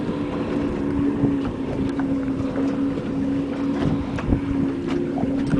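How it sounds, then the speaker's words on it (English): Wind buffets the microphone in rough gusts over the steady drone of a boat engine on the St. Johns River while shrimping, with occasional knocks and thumps. "It's a little windy out today."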